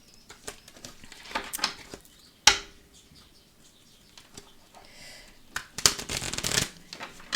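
Tarot cards being shuffled by hand, soft riffling and flapping bursts that come in several uneven bouts, close and fairly quiet with no speech.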